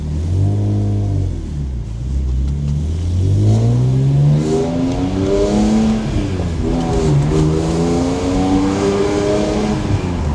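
A 600 hp BMW E46 M3 with CSL headers revs hard while driving, its engine pitch climbing and falling through repeated pulls, loud and close from inside the car, with no talk.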